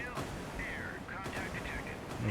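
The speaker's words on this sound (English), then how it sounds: "The gunfire is not terribly accurate." Naval gunfire in the Sea Power video game during a battle in the Kattegat Strait, several dull booming shots under a constant roar of sea and wind, partly masked by a voice talking over it.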